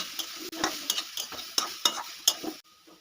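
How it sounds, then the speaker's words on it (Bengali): A spoon stirs grated coconut with cracked cardamom and a cinnamon stick in a pan, producing rhythmic scraping strokes and light clinks against the metal over a faint sizzle, close up with no voices. "এক মিনিট মতো নাড়াচাড়া করে নেবো"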